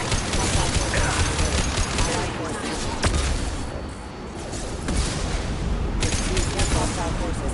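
Heavy gunfire and flashbang blasts fill a firefight in the video game Mass Effect 2, a dense, loud, continuous barrage of shots and bursts with brief dips before the clatter surges again.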